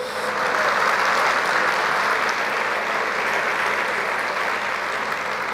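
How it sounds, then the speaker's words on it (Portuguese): A church congregation applauds during a Portuguese-language sermon, a thick, steady roar of many hands clapping that rises quickly and holds evenly for about five seconds. "Você pode aplaudir o Senhor, dizer graças a Deus."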